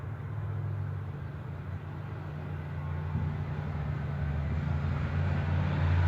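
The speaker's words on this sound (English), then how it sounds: "There's a truck going by. Pepsi truck." A Pepsi truck rolls past outdoors, its low engine rumble and road noise swelling gradually and growing louder toward the end, with no voices heard.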